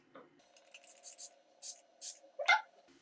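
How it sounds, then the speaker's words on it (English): A Catrice makeup prep mist bottle gives several short, fine spritzes in quick succession, each a crisp hiss close by over a faint steady hum. "So let's open this guy up and give it a mister test."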